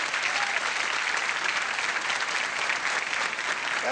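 A studio audience at a television talk show applauds steadily and fairly loudly, with dense clapping and no speech over it.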